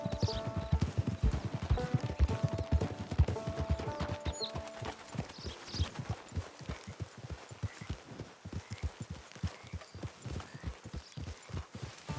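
Horse hooves clip-clop in Red Dead Redemption 2, a steady walking rhythm of distinct hoof strikes on the ground, with a brief whinny and some game music early on, no voices.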